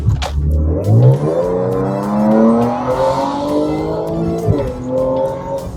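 Supercharged Audi S4 accelerating hard, its engine and exhaust climbing through rising pitch sweeps with a gear change near the end, loud and close, with no talking.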